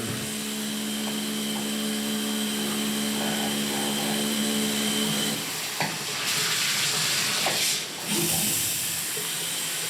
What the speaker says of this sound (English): Nice strong shower.